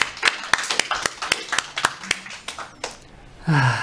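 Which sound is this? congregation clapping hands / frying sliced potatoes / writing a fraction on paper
congregation clapping hands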